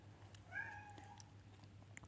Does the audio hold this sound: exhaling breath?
no